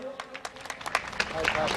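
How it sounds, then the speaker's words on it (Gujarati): Applause from a crowd at a temple consecration festival, scattered claps that thicken into a fuller round under and between nearby talk. "આપણે પણ ફરી એક વખત તાળીઓના ગડગડાટથી ચંદ્રકાંતને આશીર્વાદ અને શુભકામના અર્પણ કરીએ."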